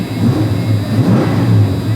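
A 1986 Ford F250 engine fitted with Holley Sniper 2 fuel injection revs in short low, rumbling surges over a steady idle drone, close and fairly loud.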